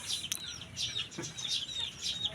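Free-range village chickens cluck and chirp in short, scattered calls close by on a poultry farm, with a busy, steady flock background and no talking.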